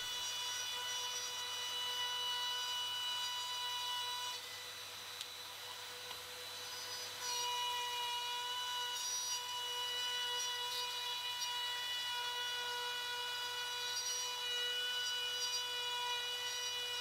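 A wood router cuts with its original dust shroud fitted, giving a steady high-pitched whine with a sustained tonal hum that dips briefly midway, then resumes close and loud, with no talk.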